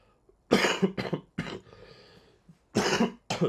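Several loud, harsh coughs close by, in two bursts separated by a brief pause, with a quieter rasping breath between them.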